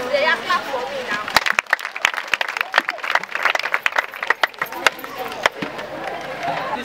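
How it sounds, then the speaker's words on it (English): Audience clapping at a talk, a burst of scattered irregular claps mixed with crowd noise and voices, fairly close and lively. "They are clapping for me now."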